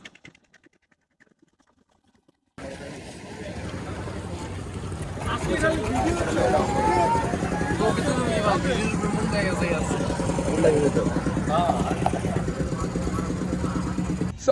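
A trawler boat's engine runs on a river in Sylhet during rain, a steady low drone after a near-silent start, with loud talking and chatter over it throughout.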